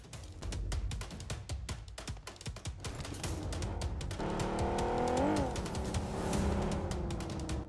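A vehicle drives in the BGMI mobile battle game, its engine droning steadily close by and rising in a revving whine midway, with faint gunfire crackling around it.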